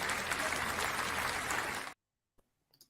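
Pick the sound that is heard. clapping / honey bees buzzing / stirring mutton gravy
clapping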